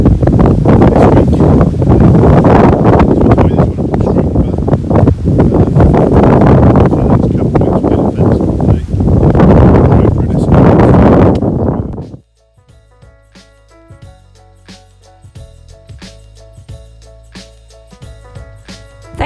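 Wet, windy weather on an open grassy sheep farm buffets the microphone with loud, continuous roaring gusts for about twelve seconds, then cuts off abruptly to a much quieter passage of faint tonal sounds.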